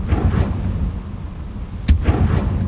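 A fiery blast spell in Hogwarts Legacy erupts as a deep booming rumble, followed by a sharp crack and another low thud near the end.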